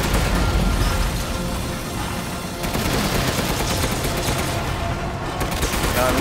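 Continuous booming cannon fire and heavy explosions roar through the whole stretch, dense and loud, in a battle in Resident Evil Village.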